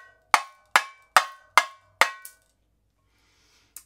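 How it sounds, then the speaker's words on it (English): Five crisp, evenly spaced stick downstrokes on a tamborim, each a bright metallic crack with a quick decay, then a softer sixth hit and one faint late tap, played alone with no talking. "the regular downstroke like any other drum"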